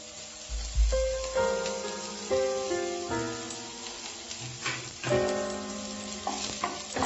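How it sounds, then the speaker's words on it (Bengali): Chopped onions dropped into smoking hot oil in a wok, a soft sizzle with clattering and stirring bursts in an otherwise quiet kitchen, with background music tones. "তেল থেকে ধোঁয়া উঠছে, এবারে পেঁয়াজ কুচিগুলো দিয়ে দিচ্ছি।"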